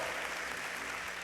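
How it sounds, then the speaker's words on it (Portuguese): A congregation at a family church service applauds in a steady, moderate wash of clapping with no voices over it. "pode dar uma salva de palmas"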